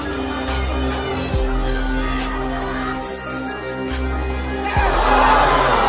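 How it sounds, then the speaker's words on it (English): A boxing hall crowd roars in a sustained, loud wash of cheering, with low rumbling surges and a rise near the end, while a commentator talks over it. "Crowd are absolutely loving this."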